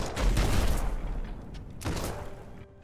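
Gunfire from the airship-and-skyland video game Black Skylands sounds as a dense burst of shots with low booms at first, then a second, sharper volley after a brief lull.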